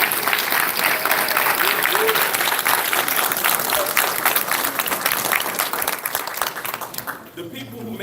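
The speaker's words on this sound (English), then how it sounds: "give a big round of applause for your teachers," Audience applause at a school promotion ceremony honoring teachers and staff, a loud, dense crowd of clapping and cheering that thins out near the end.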